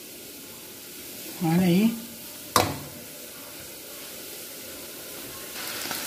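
An egg fries in a pan already greasy from calabresa sausage and bacon, giving a soft, steady sizzle. A short spoken phrase and a sharp clink of a utensil stand out over it.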